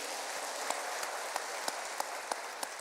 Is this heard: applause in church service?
yes